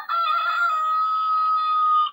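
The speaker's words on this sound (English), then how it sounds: "So we have a rooster there." A wireless doorbell chime plays an electronic rooster crow, one sustained synthetic cock-a-doodle-doo lasting about two seconds, clear and close.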